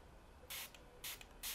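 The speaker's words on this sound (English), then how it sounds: "Spray some more water" A handheld spray bottle mists water onto hair in three quick, crisp hissing bursts, quiet and close, with near silence between them.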